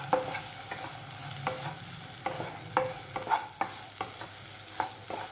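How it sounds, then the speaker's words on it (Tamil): A utensil stirs and scrapes chopped tomato in a pan with repeated strokes over a soft, steady sizzle, with no one speaking. "இதை 1 நிமிஷம் நல்லா வதக்கிப்போம்."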